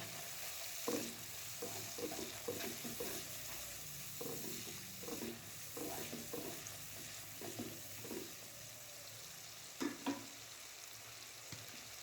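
Cabbage sabzi being stirred with chaat masala in a hot pan, with a steady low sizzle of frying and a series of soft, irregular scraping and stirring strokes throughout.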